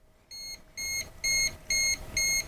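A non-contact voltage tester sounds near a 50-amp electrical pedestal, giving five evenly spaced, shrill electronic beeps over a faint steady hum, with no one talking.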